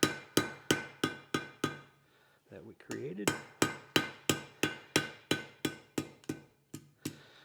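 Rapid, regular ringing hammer blows on hot metal on an anvil while forging a hinge, a short pause with someone speaking briefly, then the steady hammering resumes.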